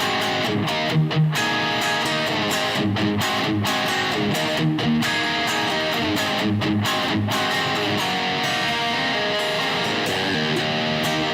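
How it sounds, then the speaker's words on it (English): An electric guitar plays through a distortion pedal at a live music-gear show, producing dense, loud, continuous overdriven chords and riffs with sustained notes and no talking. "Now we're going to do the exact same thing now with the distortion pedal on."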